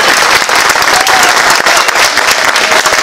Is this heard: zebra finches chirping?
no